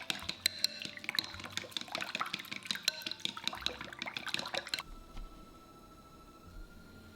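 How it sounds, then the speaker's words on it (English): Egg and chicken stock mixture poured through a fine mesh strainer into a serving bowl, a close, steady liquid trickle and patter for about five seconds before stopping, leaving quiet room tone. "Through a fine mesh strainer, pour the egg mixtures into the serving bowl so there are no more air bubbles."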